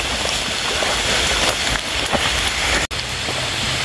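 Rain pours down in a forest during mushroom gathering, a loud, dense wash of drops on leaves and ground with a brief dropout near the end.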